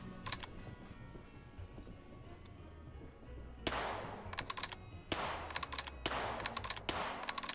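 Gunfire from a magazine-fed .22LR Ruger-platform gun in the VR game Hot Dogs, Horseshoes & Hand Grenades: several sharp shots crack out in quick clusters after a quiet stretch, fairly close and clear with no talking.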